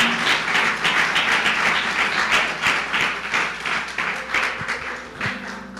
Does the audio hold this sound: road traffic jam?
no